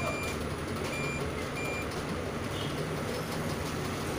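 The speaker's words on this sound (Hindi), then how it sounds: "जहाँ भी बजर बजेगा, ये देखिए," A multimeter's continuity buzzer beeps steadily while probing a shorted circuit board of a Lenovo A6000 phone, a thin electronic tone held over a dense background hum and rumble, with no talking.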